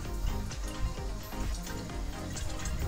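Water and hydrogel balls pour into a hookah, a continuous close bubbling, sloshing rush of liquid with soft knocks, fairly faint and with no talking.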